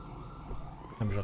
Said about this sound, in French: j'entends encore les sirènes comme si c'était derrière nous